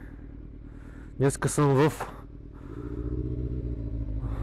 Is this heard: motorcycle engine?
yes